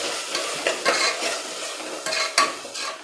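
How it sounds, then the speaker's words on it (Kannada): Ground masala with turmeric fries in a pan for a South Indian tomato bath, giving a close, steady sizzle with irregular scraping and knocking of a spoon as it is stirred. "ಈ ಮಸಾಲೆ ಹಸಿ ವಾಸನೆ ಹೋಗೋವರೆಗೂ ಇದನ್ನು ಚೆನ್ನಾಗಿ ಹುರಿಯಿರಿ."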